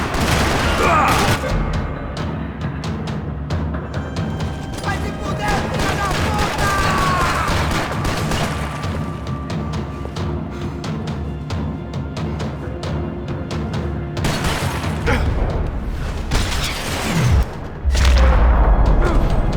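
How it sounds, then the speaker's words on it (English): Dense bursts of gunfire and booming shots fill a parking lot firefight in the video game Max Payne 3, loud and nearly continuous throughout, with a voice speaking briefly over the shooting. "Another parking lot rattling with gunfire."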